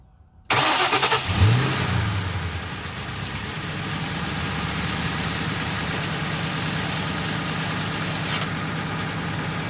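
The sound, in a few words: car engine starting and idling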